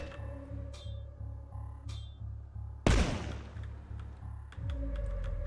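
A single heavy blast from a mortar launcher in the shooter Dusk erupts over a pulsing, rhythmic game soundtrack, followed by a fading rumble before the music resumes.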